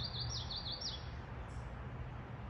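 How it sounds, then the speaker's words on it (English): Several birds chirp outdoors in a scenic, foggy New England setting in June, with a quick run of high, repeated tweets early on and a fainter call later over steady wind and ambient noise. "Beautiful area with the birds chirping along."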